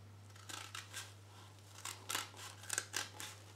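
Scissors snipping through stitched fabric packaging, several close, crisp cuts in irregular bursts, alone over a low steady hum.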